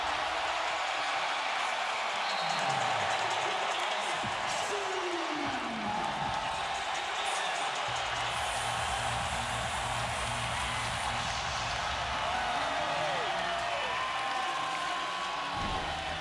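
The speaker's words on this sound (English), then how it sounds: "Crowd going crazy." Loud, steady roar of a basketball arena crowd cheering, a continuous wash of noise that holds for the whole stretch, with faint voices and a few sweeping tones underneath.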